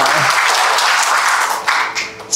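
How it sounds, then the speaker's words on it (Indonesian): A church congregation claps together during a Sunday service, a steady wash of applause that fades toward the end. "Berikan tepuk tangan untuk Tuhan."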